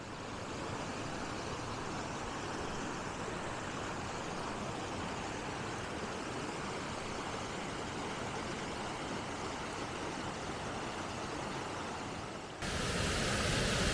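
Waterfall in a hidden Lake District valley, a loud continuous broadband roar of falling water that stays steady throughout and grows slightly louder and brighter near the end.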